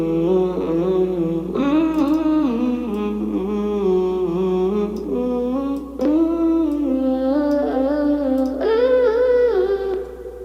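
An FL Studio synth melody plays unprocessed, without pitch or formant shifting. Sustained tonal notes step through a phrase over a low steady hum, loud and continuous with no voices.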